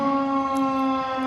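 Tornado siren wailing outdoors: a loud sustained tonal wail with strong harmonics, held steady and close, no speech heard.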